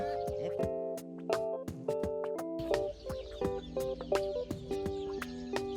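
Chickens cluck repeatedly beside a backyard coop, a busy overlapping run of short clucks and calls close by, steady throughout with no pauses.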